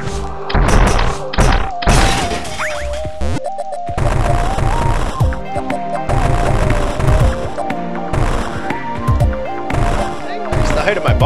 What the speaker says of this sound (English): what I'm doing is a power bomb right about now